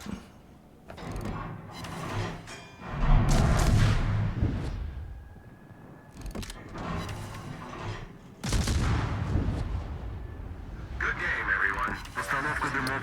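Naval gunfire from destroyers in the World of Warships game, heavy booming salvos and rumbling impacts in bursts, mixed with game effects and a voice talking over the action.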